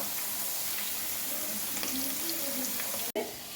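Potato pieces fry in a pan with a dense continuous sizzle, loud and close, briefly cut by a sharp break as the pieces are turned.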